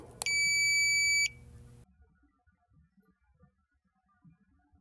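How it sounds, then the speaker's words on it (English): A single sharp electronic beep from a Federal Signal FSDirect software button, a steady high tone lasting about a second, followed by faint quiet knocks and handling sounds. "set an audible beep whenever a button is active for the specified period of time"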